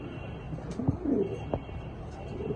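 Close pigeons cooing in soft, low throaty bursts, with a faint rustle and background hum.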